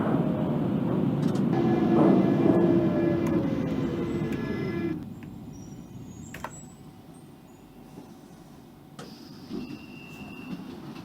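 Central Line tube train in the OpenBVE train simulator, pulling into Shepherd's Bush: a loud rumbling run with a descending motor whine that fades at about five seconds, leaving a quieter steady hum with faint clicks.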